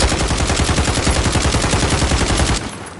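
A rapid, loud burst of automatic gunfire from a gun in Call of Duty, evenly spaced shots rattling for over two seconds before cutting off abruptly.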